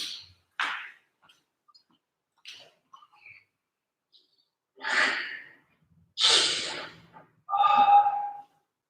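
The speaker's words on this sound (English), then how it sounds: "Nice breathing there" A person breathes heavily during a training session, with a few soft breaths early on, then three loud, drawn-out exhales or gasps close to the mic near the end, separated by silence.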